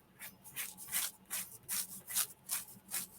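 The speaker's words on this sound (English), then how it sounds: "Let me get out my little sander again." A small electric sander works over a playing card in a series of rhythmic rubbing, scratchy passes, close and fairly quiet with no talk.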